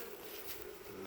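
Honeybees hum in a steady, close buzz, a faint, continuous drone of many insects from a nucleus colony.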